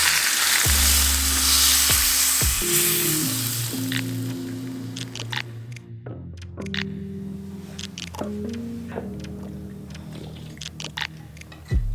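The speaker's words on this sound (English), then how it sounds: "heat them up to a sizzle in a tiny pan" Loud hiss and crackle of spices hitting hot oil in a tiny pan, the sizzle fading gradually with occasional clinks of a utensil against the pan.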